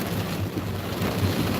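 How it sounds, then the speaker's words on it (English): Driving rain and wind roar as a dense, continuous wash during a Kentucky thunderstorm, steady and loud throughout with a faint low rumble beneath and no voices. "We've had high wind, driving rain, frequent lightning."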